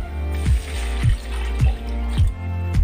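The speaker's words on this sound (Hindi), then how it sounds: "अब हम पानी मिलाएंगे" Water is poured into a pan of potato curry made with boiled, mixed-in potatoes, giving a steady run of wet splashing with soft gurgling pulses about every half second, close and moderately loud with no talking.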